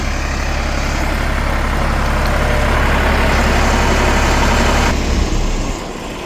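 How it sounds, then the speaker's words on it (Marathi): A large truck engine idles heavily and steadily at a tree nursery while tamarind saplings are unloaded, a loud, continuous low rumble that holds level before easing off near the end. "बघू शकतोय मोठी गाडी आहे आणि अशा पद्धतीनं हे अनलोडिंग"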